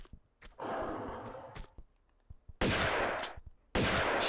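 Gunfire in the video game Tomb Raider, heard as three loud bursts of shots separated by short quiet gaps, each a sharp noisy blast with a brief sustained crackle.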